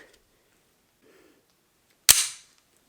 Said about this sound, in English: you wanna re-rack it like this, you can do it with your left hand.